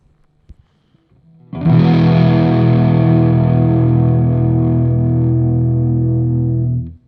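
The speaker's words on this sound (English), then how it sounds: "crank it up a little bit higher so you can hear the difference and hear how crunchy and distorted" A heavily distorted electric guitar chord rings out loud and crunchy, sustaining for several seconds before cutting off abruptly.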